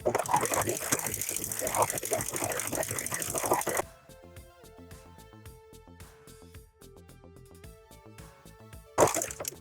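A serger sewing a lettuce hem with woolly nylon thread runs in a fast steady mechanical whir, loud at first, then softer rhythmic stitching with ticking, and a brief louder burst at the end.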